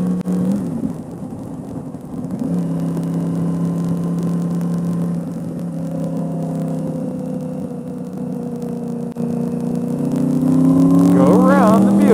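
A Yamaha R1 sport motorcycle engine rises and holds in pitch as it accelerates on a road, a steady loud whine building toward the end, with a voice talking over it.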